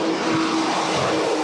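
A passenger airliner roars steadily as it departs on its final flight, a loud, continuous broadband engine rush with a faint tonal whine and no voices.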